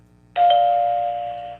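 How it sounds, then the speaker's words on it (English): A single two-tone doorbell chime rings out clearly, ding then a sustained ringing tone that fades over about a second, alone against near silence. "then they rang the doorbell"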